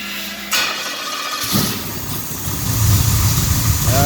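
An engine fitted with Edelbrock Pro-Flow 4 EFI cold starts in icy conditions on a DCI Motorsports RA5, cranking briefly, catching, then settling into a loud, rough, steady idle that is running slightly rich.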